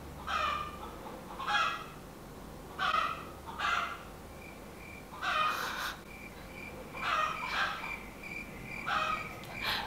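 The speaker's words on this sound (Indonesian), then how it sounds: "sorry ya ada suara ayam" Chickens clucking and squawking in repeated short bursts, fairly close and moderately loud, with a faint steady background hum and no talking.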